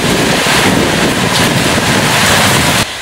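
Sudden flash storm on St Lucia: a loud, steady roar of wind buffeting the microphone with heavy rain and surf-like wash, continuous and close throughout, easing only slightly at the very end.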